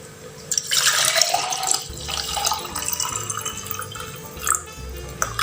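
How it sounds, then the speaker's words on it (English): 300 ml of water pours into a container in a splashy, hissing stream for several seconds, then eases into trickles and a few drips. "So we'll be dissolving it into 300 ml of water."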